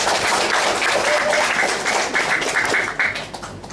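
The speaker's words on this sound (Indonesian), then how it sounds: "Dengan aplaus dulu" An audience applauds a student drama performance of Ambu Hawuk by AB Asmarandana, with a dense, steady burst of clapping that tapers off near the end.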